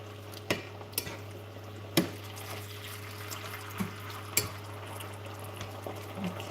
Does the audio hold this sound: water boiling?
yes